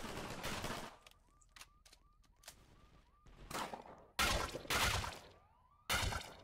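Video game gunfire: loud bursts of rapid automatic shots, the first at the start, then heavy volleys later, separated by quieter stretches with a rising tonal game effect.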